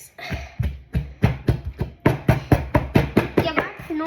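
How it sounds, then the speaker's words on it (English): Food being mashed in a home kitchen, a steady run of dull thumps, each with a squelch, about two or three per second and close by, with no talk. "that's the noise of mashing"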